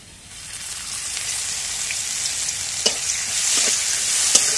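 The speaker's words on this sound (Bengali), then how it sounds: "এখন তেল দিয়ে দিই।" Oil goes into a hot karai that already holds crushed garlic and chopped onion, and a soft sizzle builds gradually with a few faint ticks and pops near the end, close by and with no one talking.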